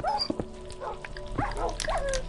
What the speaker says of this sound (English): Whoa, what happened to these dogs?